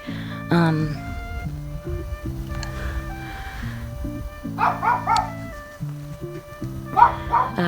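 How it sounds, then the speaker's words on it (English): Dogs bark and yip at birds repeatedly at a moderate distance in a vegetable garden while a person keeps talking over them, the barking coming in uneven bursts. "sorry about the dogs barking at birds again"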